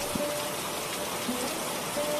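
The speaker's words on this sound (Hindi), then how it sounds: "इतने में बाहर हवा का तेज झोंका आता है।" Strong gust of wind with rain outside a house in a Hindi cartoon story, heard as a steady broadband rushing wash, moderately loud and continuous, with no voices.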